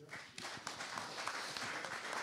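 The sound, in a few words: audience clapping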